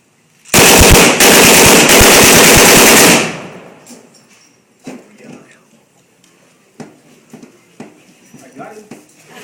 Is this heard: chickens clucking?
no